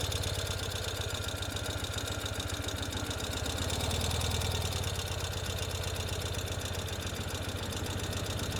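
A 2021 Ural Gear Up sidecar motorcycle engine idles steadily while backing up in reverse, a continuous low, even rumble with a faint knocking pulse, close and constant throughout, with no talking.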